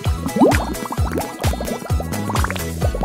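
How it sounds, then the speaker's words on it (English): Water poured and dripping into a small kiss-sealed craft gadget that forms many tiny drops, a busy run of bubbly plinks, gurgles and quick rising liquid chirps, close and fairly loud, with no talk. "Just add water."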